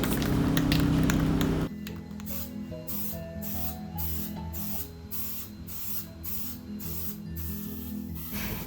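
A spray can hisses steadily while laying a first coat of paint onto an art table, the spray cutting in and out in short pulses after a louder opening burst, close and unaccompanied by talk.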